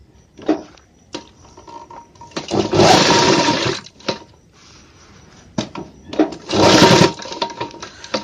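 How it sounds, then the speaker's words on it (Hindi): Sewing machine stitching the band of a men's shirt, running in two loud sustained bursts of a few seconds each, separated by quieter handling sounds and pauses. "तो बंद करने के लिए हम यहाँ से सिलाई को स्टार्ट करेंगे, यहाँ से इस तरीके से।"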